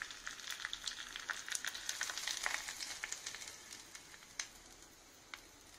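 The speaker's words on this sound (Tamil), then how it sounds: "இந்த எண்ணெய் சூடா இருக்கிறப்பயே அப்படியே எடுத்து நம்ம சட்னியில ஊத்திடலாம்" Hot tempering oil with curry leaves poured over onion chutney gives a quick, bright sizzle and spatter that fades over a few seconds to faint crackles.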